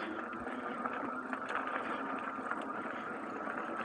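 Velotric Nomad 1 fat tire electric bike running on throttle alone, a steady broadband whir and rush of motor and tires rolling over terrain, continuous and fairly even in level with no talking.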